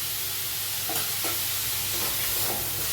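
Chopped onion, garlic and a green chili frying together in a pan with gourd seeds, a dense, even sizzle close up with faint stirring scrapes and no talking.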